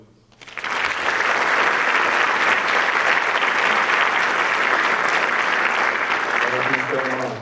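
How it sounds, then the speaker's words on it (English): A large crowd at a high school awards ceremony claps in sustained, even applause that starts abruptly and continues steadily, with a voice beginning to speak near the end. "a round of applause, please"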